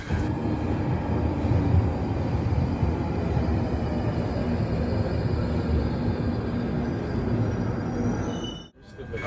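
A London Underground tube train pulls out of a station, a loud steady rumble of wheels and motors filling the whole stretch before dropping away sharply near the end.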